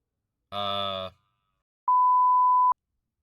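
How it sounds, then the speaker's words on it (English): A short burst of a voice, then a single flat electronic censor tone lasting almost a second, clean and loud against silence. "Beep"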